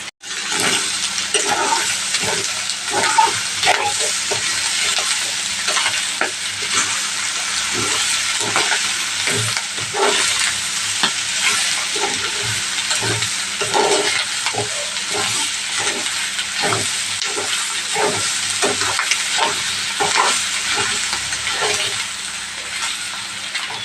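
Ivy gourd pieces fry with egg in a hot pan, giving a loud, steady sizzle that runs unbroken throughout, with faint occasional stirring scrapes underneath.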